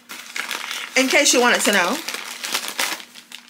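A newspaper rustles and crinkles steadily up close, loud papery crackling that runs throughout while someone speaks briefly over it, with a faint steady hum underneath.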